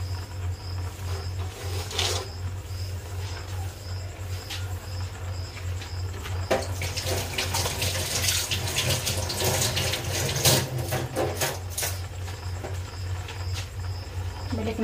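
Food being washed under a running tap outdoors, steady close splashing water that grows busier as hands move items through the stream, with faint insect chirps in the background.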